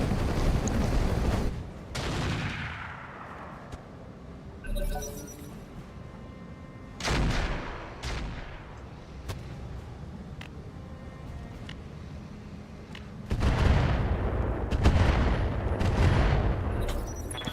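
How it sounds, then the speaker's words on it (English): Turrets firing in the BattleTech mod RogueTech, loud booming shots and sharp cracks arriving in separate bursts with decaying rumble between them, a heavy cluster near the end. "Some turrets are firing off the bat."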